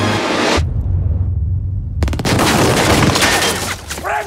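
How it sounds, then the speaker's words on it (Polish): A loud blast erupts after a brief hush as a bridge is blown up, followed by a long roaring rumble and crackling debris, with heavy low booming throughout. "Most zaraz wybuchnie."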